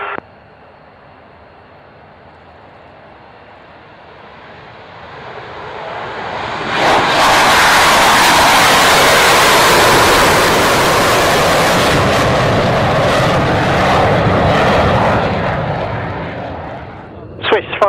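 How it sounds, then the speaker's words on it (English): Black Eagles display team jets taking off, a roar that swells from a distant rumble into a loud, sustained blast of engine noise lasting several seconds before fading away. "the display team that just took off"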